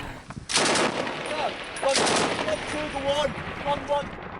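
Machine-gun fire in combat in Afghanistan, two loud close bursts of rapid shots followed by lighter scattered firing, with voices shouting over it.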